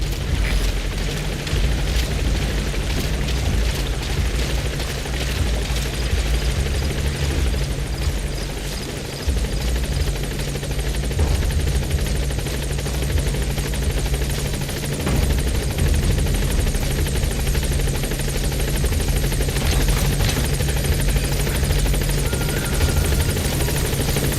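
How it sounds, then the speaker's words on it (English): A support helicopter in the Metal Gear Solid V: The Phantom Pain video game drones continuously with steady loud rotor thrum and roaring wash, with no speech. "Support helicopter has arrived."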